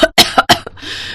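A mother coughs several times in quick, harsh bursts up close, followed by a short trailing breathy rasp, with no speech.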